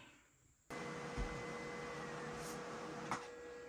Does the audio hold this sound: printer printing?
yes